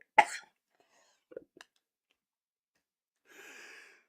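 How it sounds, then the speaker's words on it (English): A single sharp, close cough, followed by a few faint clicks and a soft breathy rasp a few seconds later, with quiet silence between. "I thought I was done coughing."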